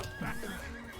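A horse in the video game Rustler gives a short, close whinny lasting about a second, with a faint clip-clop of hooves beneath it.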